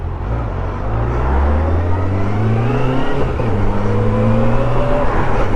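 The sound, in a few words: Suzuki GSX 600F motorcycle engine while riding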